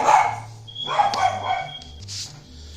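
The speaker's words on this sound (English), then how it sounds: "My dog is right here." A pet dog barks indoors, several sharp, close barks in uneven bursts across a couple of seconds.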